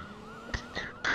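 Ambulance siren in a police roleplay video game, a wavering wail sweeping up and down steadily at moderate level, with a few sharp thuds and bursts of noise breaking over it.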